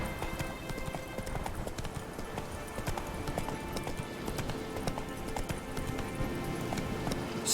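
Horse hooves clip-clop steadily at a riding pace in the video game The Witcher 3: Wild Hunt, a continuous close rhythm of hoofbeats.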